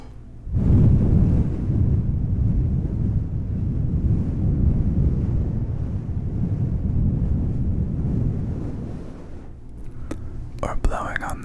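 Breath is blown across fuzzy microphone windscreens in one long, close, windy rush, and faint clicks and taps follow at the end.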